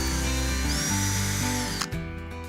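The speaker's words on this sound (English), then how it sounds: "We've got a drill for our pilot hole." A power drill bores a pilot hole for a modular box shelf, its motor whining steadily and close for about two seconds before spinning down and stopping.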